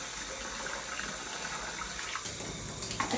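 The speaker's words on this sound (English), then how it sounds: "You're gonna pour it out," Liquid pours out of a film developing tank into a sink in a steady gushing splash that runs for a few seconds, moderately quiet and close, with a slight change in the flow near the end.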